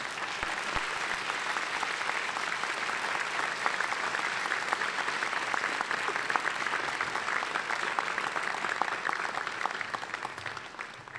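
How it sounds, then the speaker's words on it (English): Sustained applause from a large crowd at a college of pharmacy commencement, steady and loud throughout with dense clapping that never lets up. "Give them a big round of applause."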